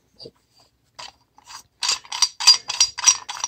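A nut being worked off a leaky old 1.25-inch radiator valve with a wooden handle, heard as a run of close, gritty metallic ratcheting clicks that start sparse and then quicken into a steady burst, with no talking.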